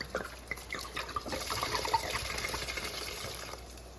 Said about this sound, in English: we are going to put in our bottle of red wine